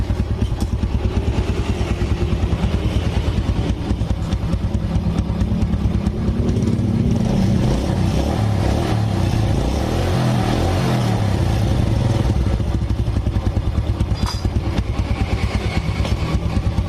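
A Yamaha Vega R motorcycle engine with a fresh bore and head idles steadily and evenly up close, a smooth continuous putter with light mechanical clatter and occasional soft revs.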